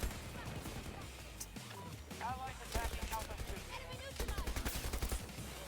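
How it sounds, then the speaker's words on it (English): M1911 pistol gunfire in a video game, as rapid bursts of sharp shots crackle through a busy, moderately quiet mix, growing denser toward the end. "hang on a minute while I shoot 200 bullets at you"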